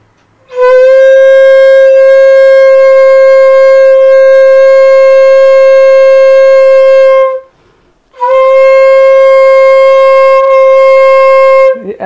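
A bamboo flute blown with too wide a lip opening sounds two long, loud sustained notes, the first lasting about seven seconds, then a short pause before the second, played alone.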